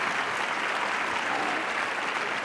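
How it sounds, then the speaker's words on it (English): Large audience giving a sustained round of applause at a keynote address, dense steady clapping that fills the hall without a break. "give yourselves another round of applause for what you do"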